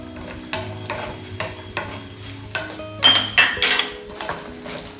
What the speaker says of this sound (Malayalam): നമുക്കിതിലേക്ക് ഒരു പിടി കാഷ്യൂ നട്ട്സ് ഇട്ട് കൊടുക്കാം.